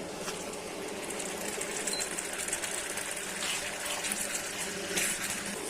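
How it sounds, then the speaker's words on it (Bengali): Spice paste for an egg bhuna curry is stirred and fried in a pan, producing a steady, dense hiss with faint scraping and bubbling textures throughout, close by and with no voices. "নেড়ে চেড়ে কষিয়ে নিচ্ছি।"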